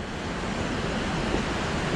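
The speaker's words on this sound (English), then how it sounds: "That's Langtang River." Steady broadband rush of the Langtang River in Nepal, heard along a mountain trekking trail, a continuous close, loud wash of water with no breaks and no voices.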